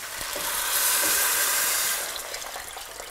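Water pours into a hot pot of lentils and rice with bay leaf, cinnamon and salt, a steady close rushing hiss that swells and then eases into a gentler sizzle.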